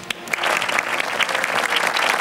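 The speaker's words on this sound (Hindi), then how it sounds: "चलिए टीम बी के लिए पहले तालियां" Studio audience applauding a team on a live Ramadan iftar quiz show, a dense, steady burst of clapping that fills the whole short stretch at close range.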